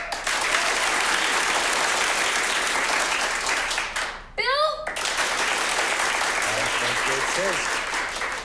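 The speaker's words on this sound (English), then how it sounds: "So, no hooting and hollering, just clap power. Just clapping." Sustained applause from a crowd fills the room, dense and steady, briefly dropping out as a single voice speaks, then resuming.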